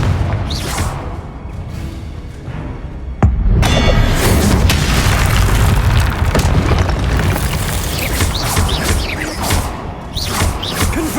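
A Confringo blasting spell explodes in the video game Hogwarts Legacy, a loud sudden boom that breaks into a sustained roaring rumble of debris and effects, close and dense.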